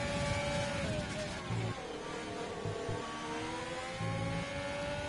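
A CLM Ferrari race car in a racing video game sweeps by at Monza near the Ascari chicane, its engine note rising and falling as it passes at moderate distance, faint under a commentator's voice.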